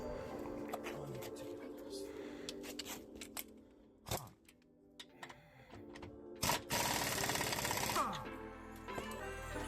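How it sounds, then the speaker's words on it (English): An impact wrench works a suspension bolt loose on a Chevy Volt, rapid rattling hammer bursts with clanks and metallic taps between, ending in a long loud burst up close. "then I switched back to that impact wrench to get that bolt the rest of the way out"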